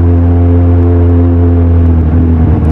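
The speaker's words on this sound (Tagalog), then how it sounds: "Kaya para umingay din yung motor kasi napakasarap pakinggan, di ba?" A Kawasaki Z1000R motorcycle engine revs hard and close, a loud, deep, steady roar with a rich harmonic drone filling the whole clip.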